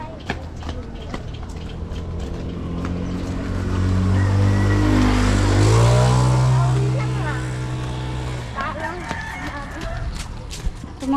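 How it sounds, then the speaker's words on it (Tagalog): A motorcycle passes along a country road, its engine swelling as it approaches, peaking near the middle, then fading away. Light ambient noise surrounds it. "Oy, may motor."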